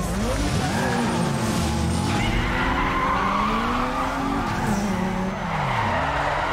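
A car drifts in Need for Speed Underground 2, tires squealing in long wavering screeches over a continuous engine roar, loud and sustained throughout with no talk.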